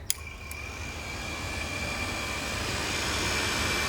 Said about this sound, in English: this is a Kawasaki ZX6R fan that I put into there